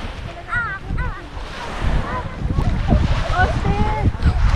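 Sea waves wash at the shore as wind buffets the microphone, a steady, fairly loud roar of surf and gusts heard under people talking nearby.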